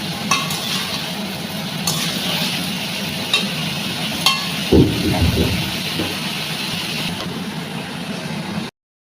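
Fish curry with cauliflower and potato simmers and sizzles steadily in a pan, with occasional stirring clatter and a brief louder scrape midway, no voices.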